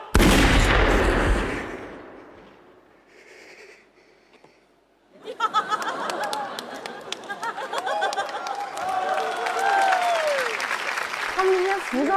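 A stage gunshot effect goes off in a comedy sketch before a live theatre audience, followed by a lull and then sustained crowd applause mixed with music and shouting voices.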